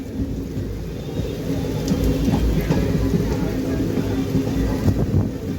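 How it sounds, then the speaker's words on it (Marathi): Heavy monsoon rain drums steadily against a moving train, the 17410 Nanded–Adilabad Intercity Express in Maharashtra, as a low continuous rumble of wheels and a dense wash of rainfall fill the whole stretch without any voices. "मुसळधार पावसाला सुरुवात झालेली आहे"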